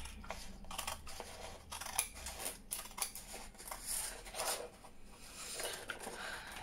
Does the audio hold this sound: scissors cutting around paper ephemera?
yes